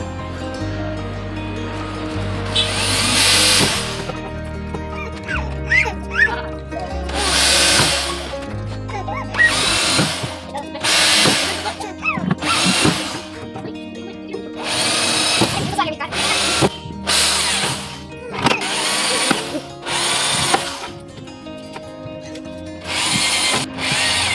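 A power drill bores holes into a plastic compost bin for kitchen waste in repeated loud, close bursts of whirring, separated by short pauses, with some clattering handling sounds between them.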